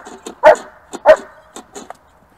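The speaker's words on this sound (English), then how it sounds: "I want the dog to bark woo, woo, woo, like this" A dog in IGP bark-and-hold training barks sharply twice, close by, with a few softer huffs and yips between and after.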